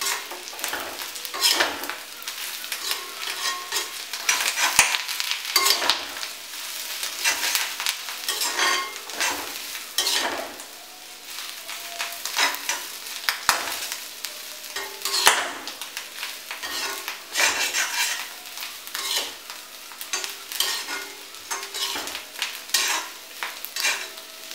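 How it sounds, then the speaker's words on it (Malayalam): Clam meat fry with curry leaves being stirred in a pan, a steady sizzle broken by repeated scraping and clinking strokes of the spoon for the whole stretch, fairly close and with no talking. "ഇത് നന്നായിട്ടൊന്ന് ഇളക്കിയെടുക്കാം"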